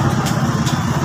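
A kuliglig, a Filipino motorized cart, with its engine idling in Manila, a close, steady low chugging throb with a regular pulsing rhythm.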